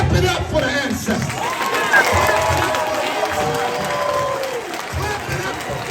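An audience claps throughout, with crowd noise and cheering mixed in under a voice talking over it.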